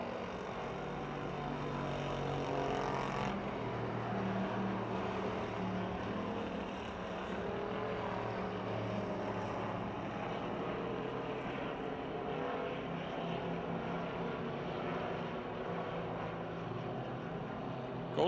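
Race cars on the final lap at Pennsylvania Motor Speedway in Pittsburgh drone steadily from a distance, a continuous engine roar lasting the whole stretch.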